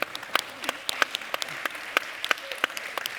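Scattered hand claps from a conference audience, a handful of sharp separate claps spread unevenly over a few seconds rather than full applause, with faint murmuring in the room.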